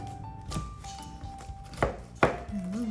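A knife chops through fresh pineapple on a cutting board for pineapple juice, with three distinct, crisp thuds spaced irregularly over faint kitchen background noise.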